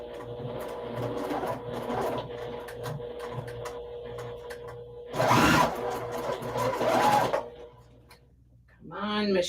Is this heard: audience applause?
no